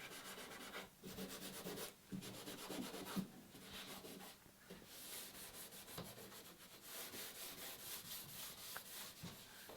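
Steady scratchy sanding on wood, rubbing back and forth in repeated strokes with short pauses, close but fairly quiet.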